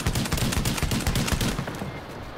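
Rapid bursts of gunfire from the Showstopper shotgun in the Tom Clancy's The Division video game, a dense run of loud shots that tails off slightly near the end.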